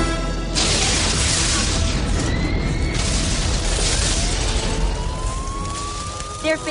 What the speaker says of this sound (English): There have been explosions at the Lexoil refinery on the edge of town